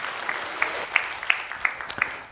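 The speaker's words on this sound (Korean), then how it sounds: "여러분 박수 한번 해주셔요" A church congregation claps briefly, a modest patter of hands with a few sharper distinct claps standing out, fairly close and without talk.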